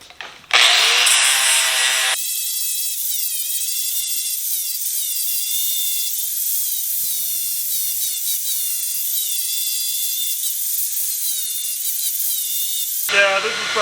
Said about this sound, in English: We'll do this one with an angle grinder with a flap disc.